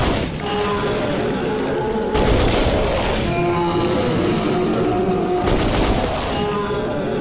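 Gunfire at a dinosaur in the Dino Crisis 2 video game comes as two loud bursts of rapid shots over a constant thick background of game noise and music.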